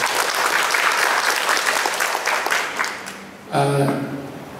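Audience applause at a literature workshop in West Sumatra, a full round of clapping that thins and fades over a few seconds before a voice comes in near the end.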